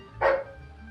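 A single dog bark, brief and fairly loud, rising sharply out of quiet indoor room tone and fading within a fraction of a second.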